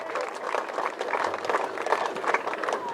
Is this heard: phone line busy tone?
no